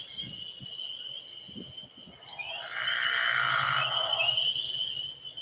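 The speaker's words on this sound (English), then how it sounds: "So we're going to play the call of the pickerel frog." A played recording of a pickerel frog calling, a low snoring trill that rises into a loud, sustained croaking rattle among other frog and insect calls outdoors, with no talking.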